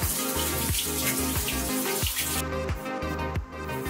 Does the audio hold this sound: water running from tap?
yes